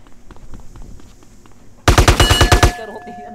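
Burst of rapid automatic gunfire in a video game shootout, about ten loud, sharp shots in quick succession, following a stretch of quieter background game sounds.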